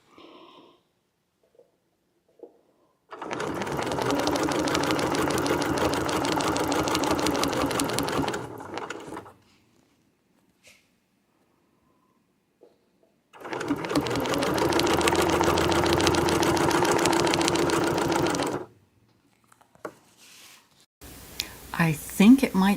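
A sewing machine stitches a quilt in two steady, close-up runs of rapid whirring lasting several seconds each, separated by quiet pauses with faint clicks and handling.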